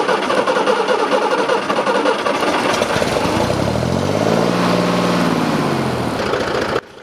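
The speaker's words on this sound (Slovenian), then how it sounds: "stari motor se je ponovno zbudil" An old TAM 5500 truck's diesel engine cranks, catches and settles into a loud, rough idle with a rising then falling pitch, close and steady until cutting off just before the end.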